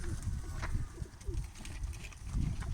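Pigeons in a racing-pigeon coop give soft cooing and rustling calls amid low shuffling and flutter noise, close by and fairly quiet.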